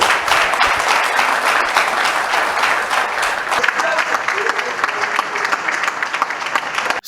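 Sustained audience applause fills a press briefing held by the governor of Lualaba, steady dense clapping near and loud, thinning slightly toward the end.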